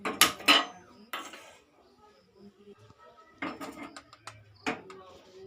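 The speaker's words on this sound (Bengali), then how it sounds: "ঢাকনা দিয়ে দিচ্ছি" Metal pot and lid clatter in a village kitchen as a lid goes onto a pot of whole masoor dal with water, several sharp clanks and scrapes close by, with a few softer knocks between.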